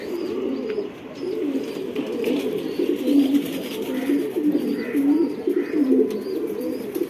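A male racing pigeon coos in repeated throaty, rolling bursts, close and steady, while other loft pigeons murmur in the background and faint high chirps appear now and then.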